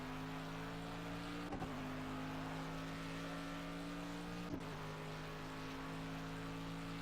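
Race car engine holding steady full throttle in Project Cars at Silverstone, a sustained loud drone with strong harmonics, briefly dipping twice at gear changes, with no voices.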